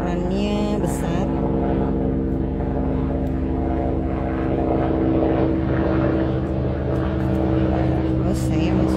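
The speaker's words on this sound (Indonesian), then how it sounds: "Ada helikopter guys." Helicopter rotor and engine drone loud and steady overhead throughout, a continuous thrumming roar with a rhythmic low pulse, while people talk underneath.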